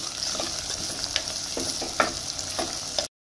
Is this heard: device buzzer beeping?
no